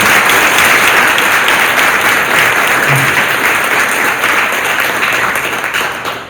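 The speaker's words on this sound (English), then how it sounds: "One more round of applause for all of our inductees." Sustained applause from a banquet audience for athletic hall of fame inductees, a loud dense wash of clapping from a large crowd that slowly tapers toward the end.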